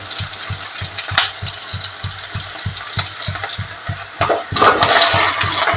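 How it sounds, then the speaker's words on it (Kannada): Okra (ladies' finger) fries in oil in a pan with onions. A loud continuous sizzle runs under a regular pulsing thump, and the frying swells into a stronger hiss near the end. No one speaks. "ಫ್ರೈ ಮಾಡಿ ಇಟ್ಕೊಂಡಿರುವಂಥ ಬೆಂಡೆಕಾಯಿನ ಹಾಕಿದ್ದೀನಿ. ಸ್ವಲ್ಪ ಹೊತ್ತು ಎಣ್ಣೆಲಿ ಫ್ರೈ ಮಾಡೋಣ."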